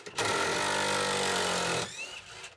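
Cordless power drill running in reverse to back a screw out of a wooden rabbit cage frame, a loud steady whine for about two seconds that then stops abruptly.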